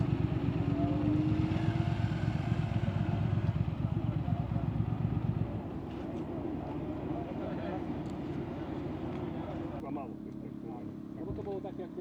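A Triumph motorcycle on a test ride at Jaklovce, its engine droning steadily and loud up close, with someone talking over it; the engine note drops and settles lower about halfway through.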